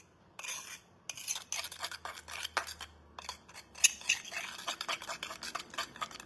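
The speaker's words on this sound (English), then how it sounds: "So that's mixing and creating this embossing paste and adding the colour to it." Embossing paste mixed with Fusion Mineral Paint is stirred and scraped with a tool, giving quiet irregular gritty scrapes and taps in short bursts against a silent background.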